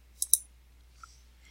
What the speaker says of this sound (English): Clicking in the worksheet cell to deselect the chart.